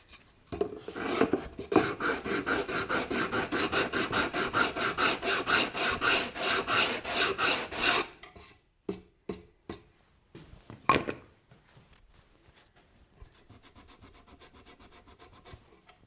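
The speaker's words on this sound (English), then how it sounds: "And hit the rest with a sanding block." Brisk rhythmic rasping of wood being sanded by hand with a sanding block, fast strokes for several seconds, then scattered scrapes and knocks fading to quiet.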